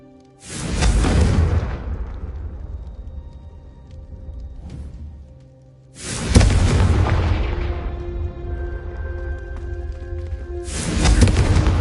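Confringo fire spell in Hogwarts Legacy, three heavy booming explosions several seconds apart, each a sharp loud blast trailing into a long rumbling decay with a faint tonal ring.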